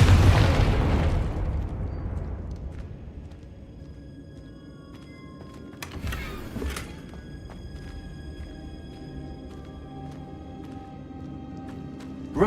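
Confringo explosion spell in the video game Hogwarts Legacy, a single heavy blast at the start that decays into a long rumbling tail, followed by a short crackling burst and quiet game ambience.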